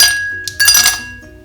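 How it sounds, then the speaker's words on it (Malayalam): Ice cubes drop into a serving glass while a chilled arrowroot smoothie drink is being made, giving a bright, close glassy clink and rattle in a short burst that settles quickly. "ഇതിലേക്ക് ഞാൻ ഐസ് ക്യൂബാണ് ചേർക്കുന്നത്."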